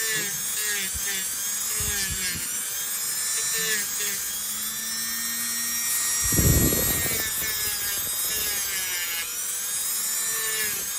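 A Dremel rotary tool whines at a steady high pitch as it works on an ingrown toenail, a sustained close buzz with brief louder contact moments near the end.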